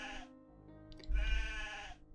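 A sheep in a video game bleats twice, a short wavering call followed by a longer, louder bleat over a low rumble.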